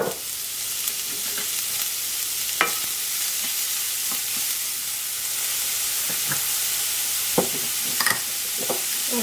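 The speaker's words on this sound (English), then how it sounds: "we're going to soften half of an onion that's been finely diced" Finely diced half onion sizzling in about a tablespoon of olive oil in a pan, a steady close hiss broken by occasional stirring scrapes and pops.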